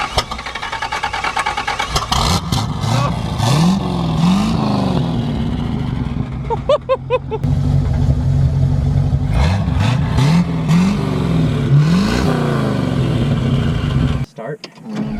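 A Rolls-Royce engine cranks, catches and revs in several rising bursts before settling, loud and close, with people talking over it.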